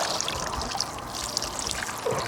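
Water trickles and drips steadily from a landing net as a barbel is weighed on the bank of the River Wye, a continuous close splashing dribble with no talk.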